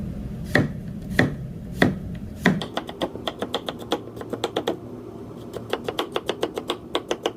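A knife strikes a cutting board slicing cucumber, a few slow chops followed by a quick, steady run of light thin slicing taps, close and clear.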